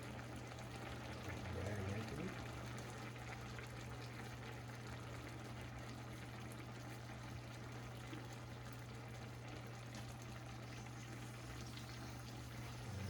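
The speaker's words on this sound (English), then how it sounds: "Nice little sizzle." A salmon fillet laid into hot oil in a pan gives off a steady, faint, even sizzling hiss that runs without a break for over ten seconds, with no talk over it.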